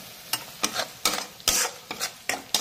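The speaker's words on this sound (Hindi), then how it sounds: "इन मसालों को हम तब तक भूनेंगे जब तक कि मसाला से तेल अलग न होने लग जाए" Spices with salt and turmeric powder roast in hot oil while a spoon stirs them, giving rhythmic scraping strokes about every half second over a soft, steady sizzle, with no voices.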